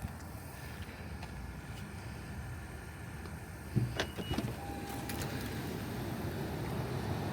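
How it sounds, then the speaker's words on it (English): Inside a warm car on a cold day, the heater fan blows as a steady broadband rush, with a few brief clicks and a short button or motor whine partway through. "Hear the heater?"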